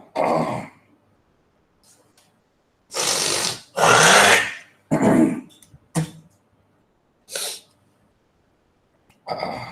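A man coughs and clears his throat in several loud, close bursts separated by short pauses, with no talking in between.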